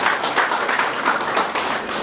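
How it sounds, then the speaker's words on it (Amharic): An audience at an Ethiopian church engagement ceremony applauds loudly and steadily, a dense, close wash of many hands clapping together with no pauses. "እስኪ አጨብጭቡ እስኪ በደንብ"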